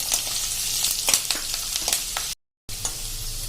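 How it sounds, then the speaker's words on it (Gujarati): Chopped onions sauté in a pan toward light golden brown, a steady close sizzle with scattered crackles and stirring scrapes, briefly cut to silence before the frying resumes. "અને આને આપણે હલકો ગોલ્ડન બ્રાઉન જેવો સોતે કરી લેશું, એટલે કે પકવી લેશું."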